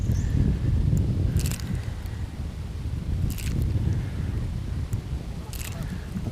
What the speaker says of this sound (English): The wind is really pushing me in where I don't want to be at right now.